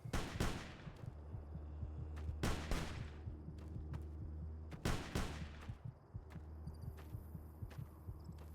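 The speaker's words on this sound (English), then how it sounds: "I don't know where that gunfire is coming from." Sharp gunshots ring out at intervals in Fallout: New Vegas, some in quick bursts, over a steady low hum, with no talking.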